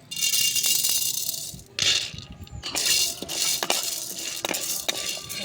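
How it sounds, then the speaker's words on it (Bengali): Peanuts and chickpeas dry-roasting in a clay pan, loud bursts of rattling and scraping as they are stirred, broken by short pauses. "100 গ্রাম মতন বাদাম আর 100 গ্রাম মতো ছোলা কাঠখোলায় ভেজে নেব"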